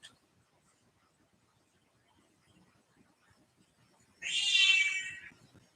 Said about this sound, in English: that kitty, she's got something to say.